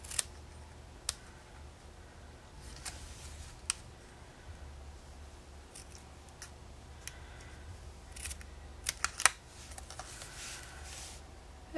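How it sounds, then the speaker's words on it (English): Paper snips cut through paper while a honeycomb card is made, giving sparse, sharp snipping clicks spaced irregularly over a quiet background, fairly close and soft, with no talking. "just cut down the middle with my paper snips"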